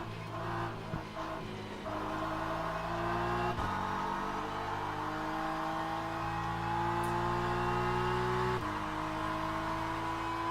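BMW GT3 race car engine in Le Mans Ultimate at Sebring, an onboard steady high whine climbing in pitch through gears with sharp drops at shifts, loud and continuous.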